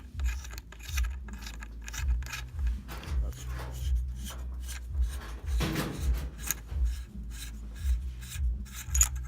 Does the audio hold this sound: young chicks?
no